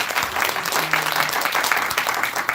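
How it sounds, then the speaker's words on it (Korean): An audience at a business presentation meeting applauds a speaker: dense, continuous clapping from a crowd fills the room at a fairly loud, steady level from start to finish. "다시 한번 큰 박수 부탁드리겠습니다"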